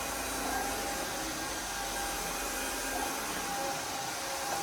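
A Roidmi Neo cordless wet and dry vacuum runs across a laminate floor, a loud steady motor drone with airy hiss and slight fluctuations as it moves, with no talking.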